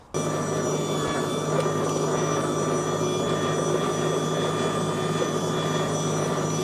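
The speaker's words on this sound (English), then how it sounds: "Now let's get this battery in the scarifier, double pass, scarifying with the fixed blades." EGO battery-powered lawn scarifier with fixed blades running on a ryegrass lawn, a close, steady motor whine with strong tonal hum and churning rasp, starting abruptly and continuing unbroken.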